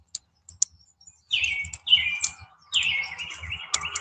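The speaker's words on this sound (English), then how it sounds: "I love the sound of the birds." Several small birds chirp and trill in bright bursts, some overlapping, against a quiet background with a few sharp ticks.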